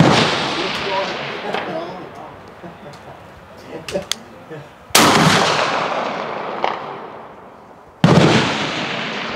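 An 1893 trials Krag-Jorgensen rifle fires at a 300 m range with loud, sharp reports, two big cracks spaced a few seconds apart, each trailing off in a long echo, with smaller pops and clicks in between.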